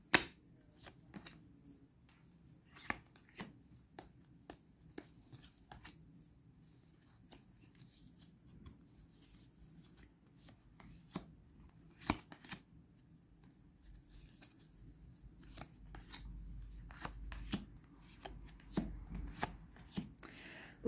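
Tarot cards shuffled and dealt out for a nine-card spread: soft, scattered snaps and taps with quiet gaps between them, growing a little busier with a rustling shuffle near the end.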